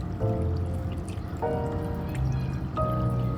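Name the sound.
small balcony garden waterfall trickling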